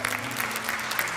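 A church congregation at a Lindakirkja service applauds two choir members in a short burst of even, dense clapping that carries through the room.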